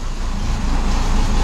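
Steady low rumble of a bus engine idling or moving slowly amid road traffic, a continuous close drone with no distinct events and no talk.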